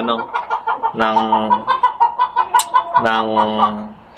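Fancy backyard chickens cluck in a loud, close, rapid pulsing series, with a couple of longer drawn-out calls rising above the steady clucking.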